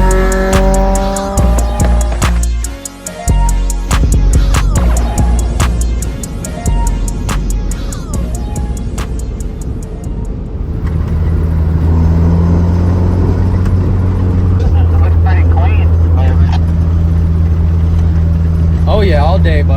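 Engine of a 35-year-old Honda car revs and runs on its first drive, loud and close, with a steady drone after a bumpy start; voices talk over it.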